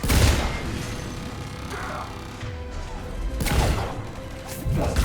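Gunfire and impacts in the Mass Effect 3 video game during an intense combat scene, with dense crashing shots and blasts layered over continuous battle noise, loud and close.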